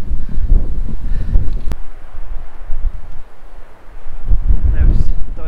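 Wind gusting on a beach at West Beach, Littlehampton, a loud buffeting rumble against the microphone that rises and falls in gusts, briefly easing in the middle before picking up again.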